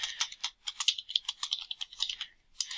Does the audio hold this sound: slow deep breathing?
no